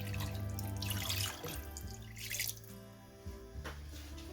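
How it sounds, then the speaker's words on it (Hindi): Half a litre of water poured into a pot of mutton with garlic and ginger paste, a steady splashing pour for over a second that tapers into gentler trickling and sloshing, close by, with no talking. "अब इसमें हम हाफ लीटर पानी डाल देंगे।"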